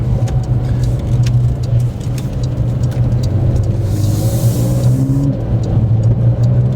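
A Porsche 992 Carrera 4S accelerates with quick paddle-shifted gear changes: a steady, close engine drone heard from inside, with brief pitch steps as gears change.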